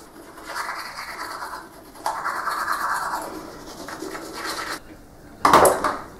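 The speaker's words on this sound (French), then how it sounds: "Je vais me brosser les dents." Teeth being brushed with a toothbrush during a morning routine, close scrubbing strokes in bursts separated by short pauses, ending with a louder sharper scrub.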